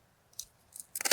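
Pruning shears cut a crowded branch on a large rose bush: two faint, separate clicks come first, then a louder, close burst of sharp snips at the end.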